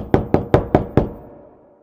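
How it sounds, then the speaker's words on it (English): Five quick, evenly spaced knocks on a small wooden door, close and crisp, each with a short decay and a soft fading tail after the last rap. "Thumbelina knocked on the door."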